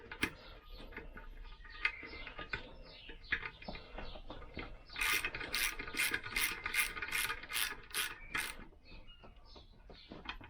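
Rapid ratcheting clicks in a tight burst as bolts are tightened on a Lambretta scooter engine during a workshop rebuild, preceded by scattered tool clatter and handling noise.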